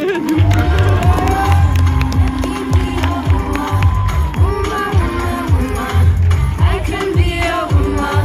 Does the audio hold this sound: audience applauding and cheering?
yes